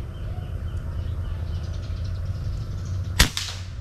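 M3 airgun fired through a Sidekick silencer at an outdoor range: a single sharp, muffled crack near the end of the clip over a low engine-like background rumble, followed by a brief faint echo.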